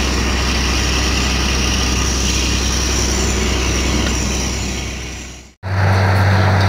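Diesel engine of a borewell drilling rig running loud and steady with a constant low rumble, cutting out briefly near the end before surging back with a heavier droning tone.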